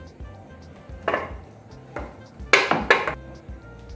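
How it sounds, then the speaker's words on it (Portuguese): Coalho cheese scraped across the coarse side of a grater for a cuscuz filling, heard as a few loud, close rasping strokes, the last ones coming quickly back to back with no talking. "Vou ralar aqui no ralo grosso."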